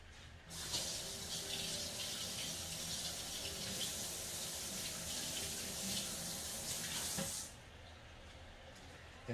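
A kitchen tap runs while a wooden spoon is rinsed under it. The steady, hissing stream of water starts abruptly, splashes evenly for about seven seconds, then cuts off.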